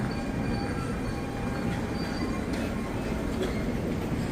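A train rolls steadily through a French railway station, its continuous rumble of wheels and carriages close and loud, with faint metallic squeals over the constant low drone.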